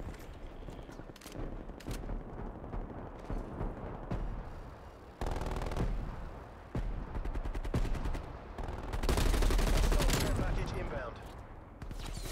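Video game gunfire mixed with a deployed sentry gun, heard as dense, continuous bursts of rapid shots and blasts that grow louder toward the end, with a player talking over the action.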